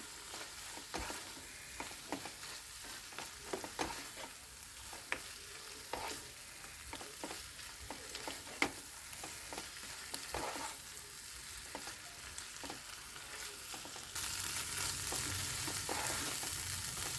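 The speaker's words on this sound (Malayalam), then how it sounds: "മല്ലിയിലയും കൂടി ചേർത്ത് നന്നായിട്ടൊന്ന് ഇളക്കിയെടുക്കാം" Mushroom curry with coriander leaves stirred in a pan, quiet continuous frying sizzle with repeated light scrapes and taps of a spoon, the hiss swelling louder near the end, no voices.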